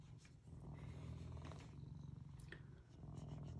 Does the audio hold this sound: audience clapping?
no